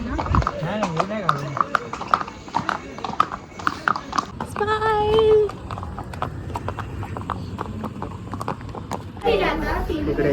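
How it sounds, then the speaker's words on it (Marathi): A horse's hooves clip-clop at a steady walking rhythm during a night horse ride in Matheran, close and clear under people talking, with a brief neigh in the middle. "नाईटमध्ये आपण हॉर्स रायडिंग करतो आहे"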